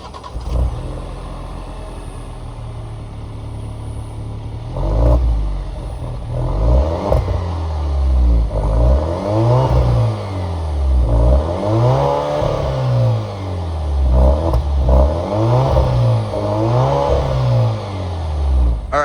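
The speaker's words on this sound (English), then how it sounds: "that was of course the sound of the 2-liter 4-cylinder turbo sold by Alfa Romeo for the Giulia and the Stelvio" A 2021 Alfa Romeo Giulia Sprint with a 2-liter four-cylinder turbo engine fires up close by, settles into idle, then gives a series of rising and falling revs in a steady rhythm.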